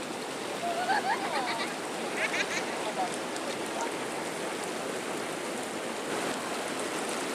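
Floodwater rushes over a waterfall on the Nysa Kłodzka river after heavy rain. The steady, loud roar of churning water stays constant throughout, with faint bits of other sound briefly audible early on.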